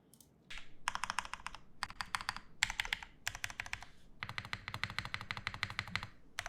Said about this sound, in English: It sounds like a keyboard.